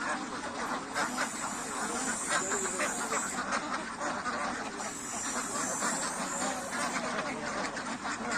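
A flock of ducks forages in harvested paddy fields, a continuous chorus of quacking from many birds, with a voice faintly mixed in beneath.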